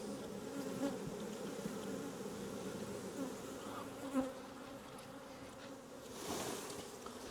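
A low, continuous buzzing of many honey bees at an aggressive hive, faint and steady, with slight swells in intensity throughout.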